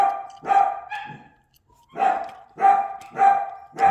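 Dogs bark loudly and close by, two quick barks followed by a pause, then a run of four evenly spaced woofs with no talk over them.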